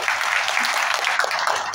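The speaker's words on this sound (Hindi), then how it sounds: "एक बार जोरदार ताली बजा दो।" Audience at a college seminar applauding loudly, a dense, steady wash of many hands clapping close by with no gaps across the whole stretch.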